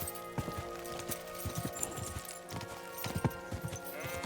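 Horse hooves clip-clop at a steady walking rhythm in the medieval game Kingdom Come: Deliverance II, soft and fairly close under a quiet ambient bed, with no talking.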